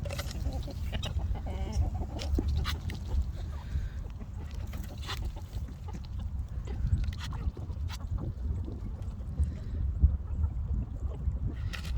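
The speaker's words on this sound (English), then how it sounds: "That's our random duck friend." A brightly colored duck calls outdoors in nature, giving scattered short quacks and clucks over steady low rumbling background noise, fairly faint and with no talking.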